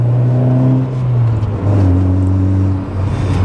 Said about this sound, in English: it could be no other car than a K series making that noise.